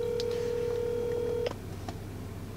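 Phone call placed through an Alexa device in a car, heard as a steady tone for about a second and a half that cuts off, followed by a couple of faint clicks against low cabin hum.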